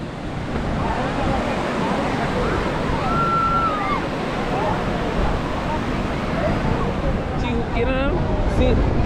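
Sea waves surge and wash steadily onto the sand at Bapatla Beach, a continuous broadband roar with wind buffeting the microphone, while people talk nearby.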